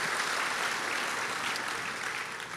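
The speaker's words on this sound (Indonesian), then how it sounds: "Berikan tepuk tangan kita untuk Tuhan kita." A church congregation applauds God during a service, a sustained, fairly quiet wash of many hands clapping with no voices on top.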